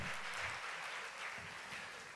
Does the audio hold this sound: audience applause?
yes